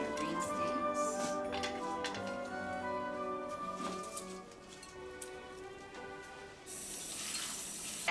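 Tap water running into a sink while salad vegetables, including Brussels sprouts, are rinsed, a soft, steady splashing with clinks and rustles, growing brighter and louder near the end.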